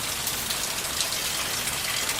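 Steady rain falls outdoors on a cold, stormy Sunday, a continuous dense hiss of drops without letup and with no voices.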